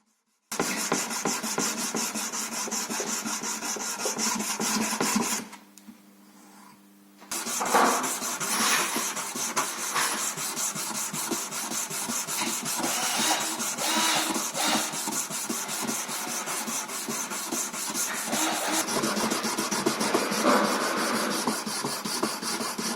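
A steel knife blade made from an adjustable wrench is mirror-polished with 1000 grit abrasive: a dense, steady rubbing rasp, close and continuous, with one short quieter break before the strokes resume.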